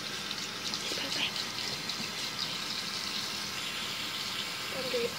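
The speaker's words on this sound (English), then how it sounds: "This is hot water." Hot water runs steadily from a tap, a constant hiss and splash heard fairly close, with faint background noises.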